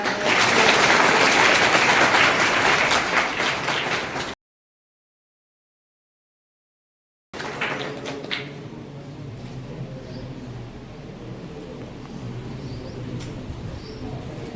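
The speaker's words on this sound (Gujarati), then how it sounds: "ખૂબ ખૂબ તાળીઓથી સ્વાગત કરતા" An audience at a mother-tongue festival at a college of education gives a speaker a welcoming round of applause, dense and loud for about four seconds before it cuts off, followed by quieter room noise.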